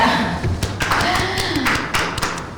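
A few people clapping in a podcast studio, quick, uneven close hand claps and taps over a talking voice, fairly loud and near.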